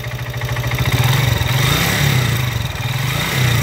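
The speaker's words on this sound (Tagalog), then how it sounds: "Bigla daw umingay yung motor ni bossing oh" A Honda TMX155 motorcycle with a faulty, noisy engine, later found to have a bad connecting rod, runs close by, its rough pulsing idle rising into brief revs with an uneven knocking beat.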